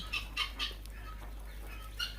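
Quail birds on a farm giving short, high, clipped calls, several bursts spaced irregularly over a low steady hum, near and fairly clear with no talking.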